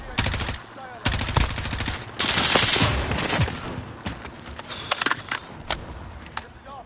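Rapid automatic gunfire and single gunshots from the video game Modern Warfare, loud bursts and volleys repeating throughout with short gaps, close and dense.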